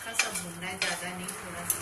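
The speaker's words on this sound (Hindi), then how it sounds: "भूनना है ज्यादा नहीं, थोड़ा सा" Capsicum, corn and mushrooms sautéed in a pan: a steady sizzle with a few quick spatula scrapes and taps, close, brief, no talk.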